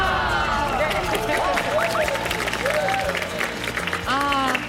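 A Korean TV health variety show studio audience applauds and cheers loudly, with energetic shouts and whoops rising over continuous clapping throughout.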